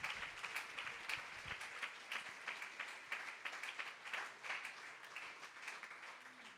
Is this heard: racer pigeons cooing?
no